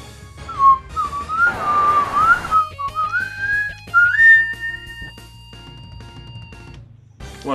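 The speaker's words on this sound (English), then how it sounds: "Why am I whistling?" A person whistles a wandering, tuneful melody alone for several seconds, with a short pause partway through, close and clear over faint background sounds during a video game session.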